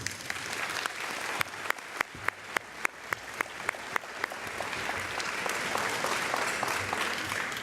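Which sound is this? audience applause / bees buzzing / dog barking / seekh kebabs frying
audience applause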